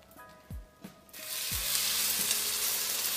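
A few soft knocks, then a cabbage and carrot mixture drops into a hot pan and sizzles loudly and steadily, frying close by.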